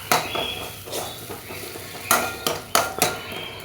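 Ground tomato masala with spice powder is stirred in a pan for several minutes, a spoon scraping and clinking against the metal in uneven strokes over a low sizzle, with a few sharper knocks near the end.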